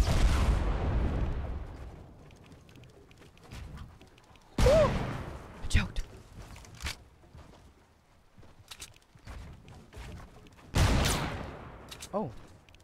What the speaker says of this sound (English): I'm gonna shoot like one more rocket and blow up on him